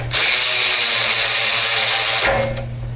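Power tool driving a spring bolt on a 2025 Lexus LX700h hybrid during an aftermarket upgrade: a loud, close, steady whirring drive of about two seconds that stops abruptly, leaving a low hum.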